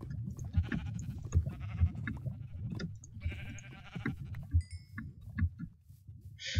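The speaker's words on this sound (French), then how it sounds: "Un mouton." Sheep bleat repeatedly in a modded Minecraft-style survival video game, several short game bleats in quick succession, fairly loud and close, with no talking over them.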